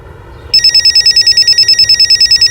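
A telephone bell rings loudly in a steady, rapid repeating pulse, starting abruptly after a half-second of quiet background murmur and continuing unbroken to the end.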